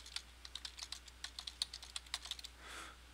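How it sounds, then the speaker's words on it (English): A web address being typed on a computer keyboard: a quick, steady run of light key clicks close by, ending with a short soft rustle. "so I'll type it in right here."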